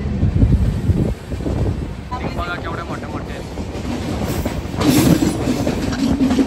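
Goods trains and Mumbai local trains roll through a station, with loud rumbling and clickety-clack of wagons. Wind buffets the microphone and people talk nearby.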